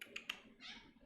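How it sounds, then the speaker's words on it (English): A pet cat meows indoors, a few short faint calls with a brief tonal rise near the end, over quiet room noise. "That's the cat."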